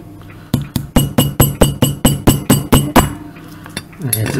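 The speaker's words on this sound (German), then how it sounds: "Vielleicht mit einem Hammer draufhauen ein bisschen." A hammer strikes repeatedly at an object to break it open, likely a household or electrical item being taken apart, giving about ten sharp, evenly spaced blows close by, with faint clinks and a short pause before a final hit.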